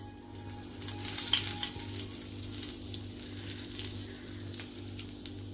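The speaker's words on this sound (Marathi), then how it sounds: "तेल गरम झालं की आपण फोडणीला जिरं घालूया" Cumin seeds sizzle in about two spoons of hot oil heated on a gas stove for a Marathi-style tempering for masala brinjal, giving a steady, close crackle with a low hum beneath and no talk.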